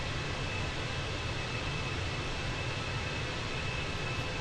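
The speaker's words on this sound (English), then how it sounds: "Our beautiful A320 climbing out of Frankfurt on the way to Stockholm, Sweden." An Airbus A320 in Lufthansa livery climbs out of Frankfurt in Microsoft Flight Simulator, its engines giving a steady, loud, broadband roar with a faint high whine held throughout.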